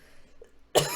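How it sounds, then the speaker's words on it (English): A single abrupt, loud cough bursts out near the end after near silence, with a faint throat-clearing sound just before it. "immediately I felt like I had to cough and clear my throat"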